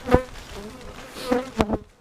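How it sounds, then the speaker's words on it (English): Honeybees return to an old hive, with close buzzing passes and a few sharp knocks or taps, in brief uneven bursts over a quiet background. "Now, the bees came back."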